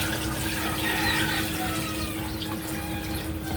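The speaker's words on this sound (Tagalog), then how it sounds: "At saka, lagyan ng tubig." Water is poured from a tap or container into a cooking pot holding washed beef, giving a steady, close splashing and gushing stream that runs continuously.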